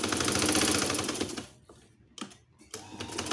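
A sewing machine stitches cloth for a handmade stuffed toy bird: a dense, steady mechanical rattle runs close and loud for about a second and a half, then stops, leaving short bursts of stitching after the pauses.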